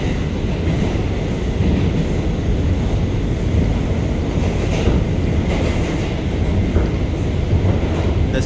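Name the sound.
NYC subway A train riding on IND 8th Ave Line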